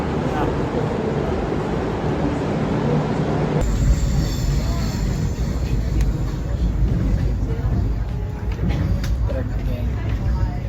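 A train in Melbourne, Australia rumbles steadily along the rails, with a continuous low roar and occasional high metallic squeals from the wheels throughout.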